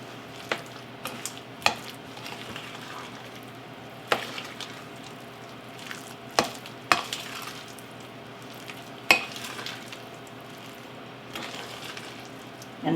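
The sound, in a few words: mixing apples into muffin batter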